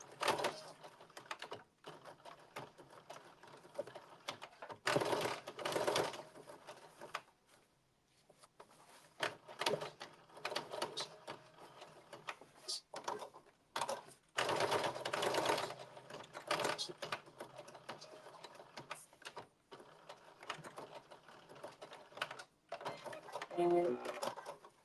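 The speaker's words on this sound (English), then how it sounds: "You're going to edge stitch 1/8 of an inch from the edge." Sewing machine edge stitching along a blazer edge in bursts of rapid mechanical whirring, stopping and starting with short pauses between runs, while a person talks over it.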